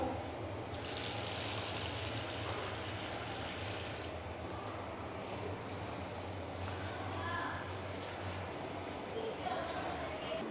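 Water runs steadily from the taps of a row of school wash basins, a continuous hissing flow at moderate level that never stops.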